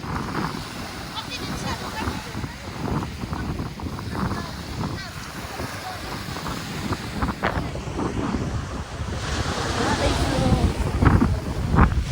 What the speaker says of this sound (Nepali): कस्तो छ अस्तिको भन्दा धेरै छाल आएछ।